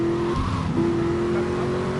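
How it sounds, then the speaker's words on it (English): A car driving in Grand Theft Auto 3, with a steady engine drone and a sustained whining tone that briefly breaks and resumes, up close and with no voices. "This is a decent car"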